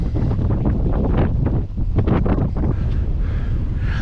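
Gusty wind on a lighthouse jetty at Scituate, Massachusetts buffets the microphone with loud, rumbling bursts and roaring low noise throughout.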